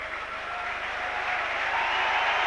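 A big crowd at Knowsley Road applauds during a 1996 St Helens v Sheffield rugby league match, a dense, sustained roar of clapping that swells slightly and carries on throughout.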